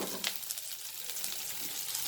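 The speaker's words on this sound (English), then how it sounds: "So now as the onions are nicely fried," Onions frying in a pan for a Goan-style beef dry fry, giving a steady, close sizzle and crackle that holds evenly throughout with no talking.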